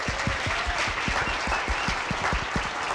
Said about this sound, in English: How about a round of applause for the judges?